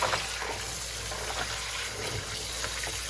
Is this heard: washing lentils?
yes